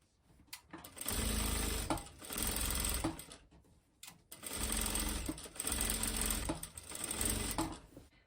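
Sewing machine stitching around the pocket bag of a wrap dress, running in two long close bursts with a brief stop between them and no talk.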